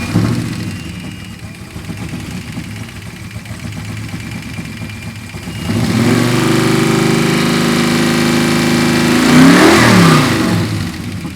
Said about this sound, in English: Now I'm going to start it for you.